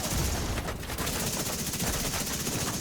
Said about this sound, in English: The mini tanks keep shooting you even though you're out of combat with smokescreen.